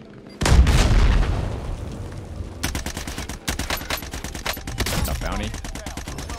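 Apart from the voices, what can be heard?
gunfire, video game Call of Duty Warzone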